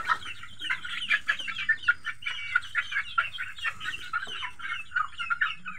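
Chickens cluck repeatedly in a village farmyard, a busy run of short, close clucks and squawks from several birds over quiet background.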